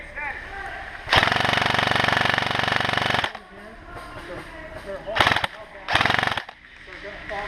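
Airsoft gun fire at an outdoor field in Penn Yan, NY, with a loud sustained burst lasting about two seconds, followed by two shorter loud bursts a moment later, under quieter background noise.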